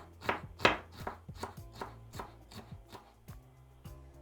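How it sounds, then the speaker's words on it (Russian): A knife dices an onion on a cutting board in steady, close chopping strokes, about ten crisp knocks spaced evenly at roughly two per second. "1 луковицу нарежу на мелкий кубик"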